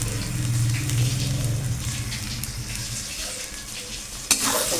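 Egg chutney sizzles as it fries with onion and salt in a pan, a steady close crackle with stirring scrapes and a sharp clink near the end.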